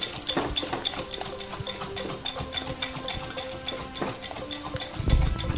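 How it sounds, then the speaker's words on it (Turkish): Yogurt stirred with grated garlic and salt in a bowl, a spoon clinking and scraping repeatedly against the dish in a steady, close rhythm with no voices. "yoğurdu sarımsak ve tuz ile karıştırıyoruz"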